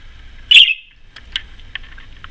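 A pet parakeet chirps close up: one loud sharp whistled call, then a series of fainter short chirps and trills.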